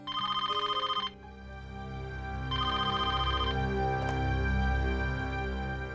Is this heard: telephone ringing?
yes